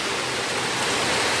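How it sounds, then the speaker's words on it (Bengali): Heavy rain pours down on a village road, a dense, steady, close hiss of falling water with no pauses or voices. "প্রচুর বৃষ্টি হচ্ছে"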